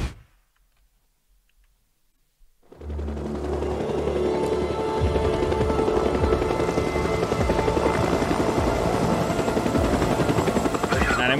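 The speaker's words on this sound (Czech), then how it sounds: "Jeden vrtulník." Helicopter in the video game Days Gone, rising out of near silence after about three seconds into a loud, steady rotor drone with a fast rhythmic chop that holds to the end.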